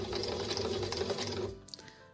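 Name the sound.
sewing machine sewing the first stitches on fabric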